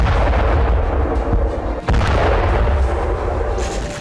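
Missile strike on a Hezbollah explosives depot in Lebanon: loud, continuous rumbling blasts with heavy low booms and a few sharper bursts, dense and close throughout.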